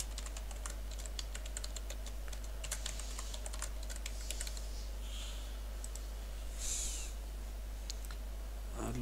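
A password is typed on a computer keyboard while a server is set up: steady, fairly quiet key clicks in an uneven rhythm run throughout over a constant low electrical hum, with no talking.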